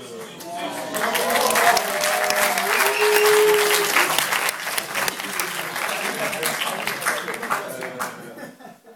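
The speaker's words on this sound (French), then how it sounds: "merci encore pour vos applaudissements en tout cas." An audience after a film screening gives sustained applause, loud and dense for several seconds before thinning out, with scattered voices and a chuckle mixed in.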